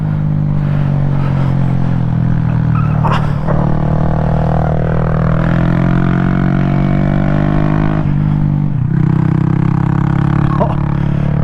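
Honda Grom motorcycles race around a kart track, small single-cylinder engines droning and revving steadily close by with shifting pitch as the bikes pass, a few sharp clatters standing out above the engine noise.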